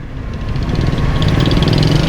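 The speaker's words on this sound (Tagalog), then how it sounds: "sobrang traffic ngayon dito sa Capas" Engines idle and rumble close by in heavy traffic of cars and motorcycles in Capas, Tarlac, a low, steady mechanical drone that swells slightly louder as it goes, with no talking.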